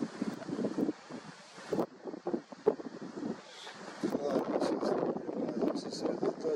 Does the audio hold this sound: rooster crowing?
no